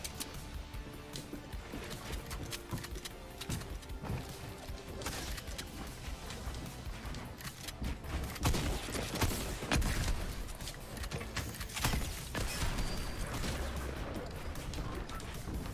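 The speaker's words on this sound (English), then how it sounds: "I'm being sniped at" Sniper and other gunfire in the video game Fortnite: dense, rapid, overlapping shots and cracks fill the whole stretch, growing louder and busier near the middle.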